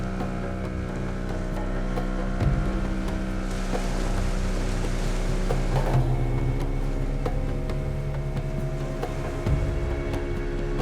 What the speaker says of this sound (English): It's a quick 10-minute boat trip from the old town's waterfront